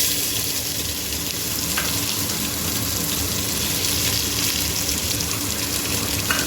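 Tadka of dry curry leaves, chillies and chopped onions sizzling and frying steadily in hot oil in a home kitchen, a continuous close crackle with faint stirring, no talk.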